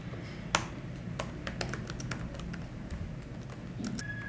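Steady typing on a computer keyboard while writing C code, a run of crisp, close keystrokes at an irregular pace with no talking.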